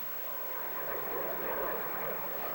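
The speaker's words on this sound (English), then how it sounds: "Jet plane flies a lot higher and faster than Quacker." A jet plane passes high overhead as a broad, steady roar that swells slightly, faint and distant, with no talk.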